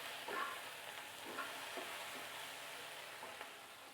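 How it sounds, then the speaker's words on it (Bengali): Eggplant frying in oil with turmeric and salt in a pan, a faint, even sizzle with a few soft stirring scrapes, quiet and with no voices. "মাছটাকে উঠিয়ে নিয়ে ওই তেলের মধ্যে বেগুনটাকে ভেজে নিব।"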